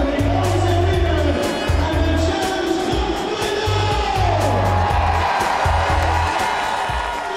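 A packed ice hockey arena crowd roars and cheers ahead of a Challenge Cup final between the Sheffield Steelers and Ayr Scottish Eagles, a sustained loud wash of fans with rhythmic horn-like blasts and chants throughout.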